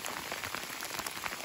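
Hail falls outside an RV during winter camping on Vancouver Island, a dense, even patter of many small impacts drumming on surfaces nearby without pause.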